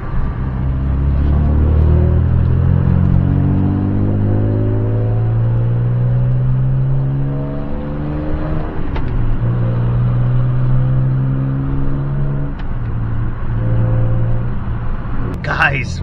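Upgraded BMW car engine running, a loud low rumble with rising and falling rev sweeps, steady idle stretches between climbs, close to the microphone.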